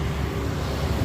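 Many motorbikes stream past on a road during an evening bicycle ride, a steady close rumble of engines mixed with wind buffeting, no voices.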